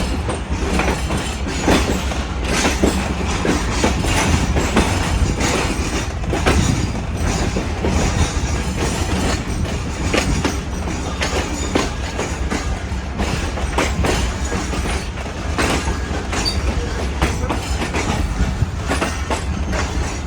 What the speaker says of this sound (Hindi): ट्रेन हमारी निकली है रोडी जंक्शन से